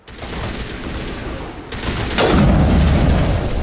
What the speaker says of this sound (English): Nope, another missile heading this way.